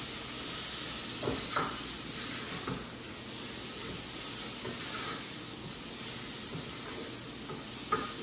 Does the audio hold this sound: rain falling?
no